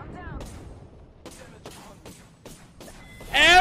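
Gunfire in the Apex Legends video game comes as a series of sharp, separate shots spaced roughly every half second, followed by a louder burst at the end, with a voice speaking at the start.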